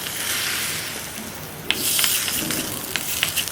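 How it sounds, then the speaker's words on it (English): Rasam, a South Indian soup, bubbling and hissing in a pot, with a soft continuous sizzle and a few clinks and pops partway through. "So we're going to let it boil along with our rasam."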